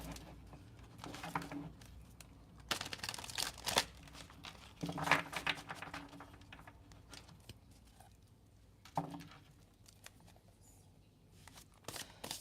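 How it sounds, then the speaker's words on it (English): Soft papery riffling and crinkling as tarot cards are shuffled, in scattered bursts with quiet gaps between, close by and fairly faint. "And we'll do one more shuffle."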